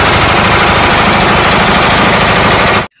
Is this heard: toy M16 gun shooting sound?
yes